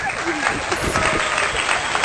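A short burst of steady, close clapping from a small crowd welcomes a guest in a casual vlog setting, with a voice briefly heard over it.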